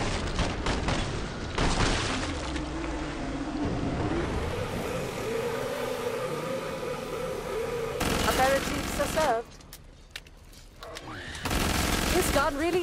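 Gunfire from a gun in Killing Floor 2 on a custom training map, bursts of rapid shots in bands at the start and near the end, with game voices and effects in the quieter middle.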